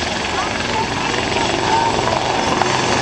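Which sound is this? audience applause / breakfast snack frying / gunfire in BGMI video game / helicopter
helicopter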